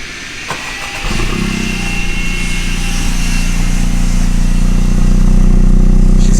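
A Honda Civic Si fitted with a new racing catback exhaust cranks briefly and fires up, then settles into a loud, steady, droning idle, close by with no talking.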